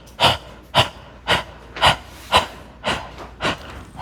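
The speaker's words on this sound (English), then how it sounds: "but sticking our tongue out and panting." Rhythmic open-mouthed panting with tongue out during a breath of fire kriya exercise, seven sharp breathy exhales spaced about half a second apart, close and clear with no talking.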